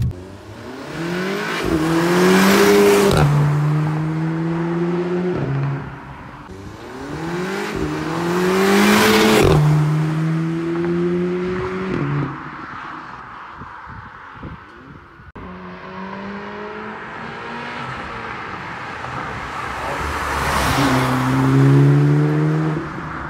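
An Audi S3 Stage 1 tuned to 375 horsepower revs hard and climbs through the gears three times, loud and close, each run rising in pitch before dropping back.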